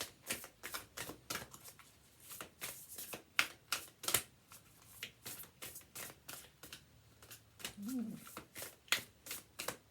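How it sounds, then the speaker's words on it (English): Oracle cards being shuffled by hand for a Starseed Oracle deck reading, a steady run of close, crisp riffles and slaps repeating throughout with no one speaking. "let's do a Starseed Oracle card."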